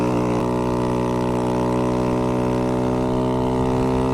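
Honda Z125 motorcycle engine held near its rev limiter around 9,000 RPM at steady road speed, a loud constant buzzing drone with no pauses and no talk.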